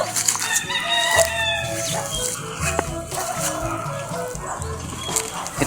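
Gamecocks and hens bred for cockfighting, clucking and crowing close by, with overlapping rooster crows and steady clucks plus a dog barking in the background.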